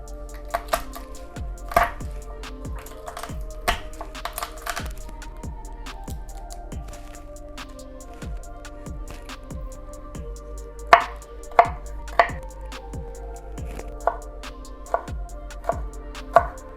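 Four garlic cloves being chopped on a board with a knife: a steady run of crisp, close knife taps, speeding into quicker bursts toward the end, loud and with no talk.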